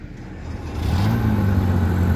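An abandoned police car's engine idles, then rises to a steady, louder hum with strong low tones as it is put in gear and pulls away, close by and with no talking.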